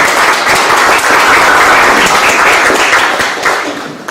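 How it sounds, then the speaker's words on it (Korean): Loud, continuous applause fills the hall at the founding ceremony of a land and liberty research institute as the audience signals approval, a dense, steady clapping crowd close by that eases slightly toward the end. "박수로 동의해 주시면 감사하겠습니다."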